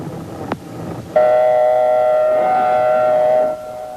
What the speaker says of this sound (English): Air raid sirens were used to alert people